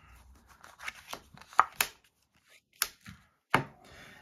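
A deck of board game cards is shuffled by hand in a quiet room, giving soft riffles and sharp snapping bursts in uneven clusters with pauses between them.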